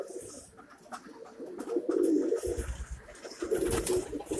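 Birds coo softly and repeatedly, a few overlapping calls nearby, with light rustling and chirps in a quiet room.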